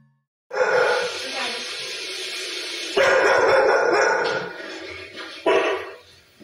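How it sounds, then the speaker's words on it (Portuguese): A bristling house dog barks abruptly and repeatedly at a kitchen corner indoors, loud close bursts in several clusters with short gaps, plus occasional whimpering sounds. "O cachorro está todo arrupiado, latindo abruptamente, olhando para o canto da casa"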